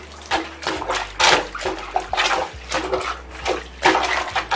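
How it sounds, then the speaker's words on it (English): Clothes plunged repeatedly into water in a DIY washing machine, giving rhythmic sloshing, gurgling strokes about once per second, close and fairly loud with no talking. "when you plunge, there aren't air pockets and you actually shoot water into the clothes"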